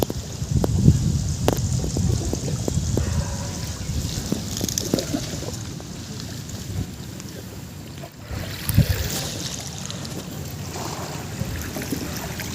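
Tidal bore on the Ganges river with water rushing in on the tide, a steady broad wash of moving water and wind noise continuing throughout, with occasional splashes and knocks.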